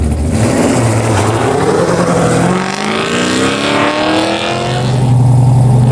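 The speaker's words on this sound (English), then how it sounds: "It's basically a C5 Corvette with a Bronco draped over it. 347 cubic inch engine. He's ready to rip." A Ford Bronco-bodied C5 Corvette with a 347 cubic inch engine races in a Pro X class autocross, its loud engine revving up and down through gear changes close by, with the pitch climbing and dropping; no voices.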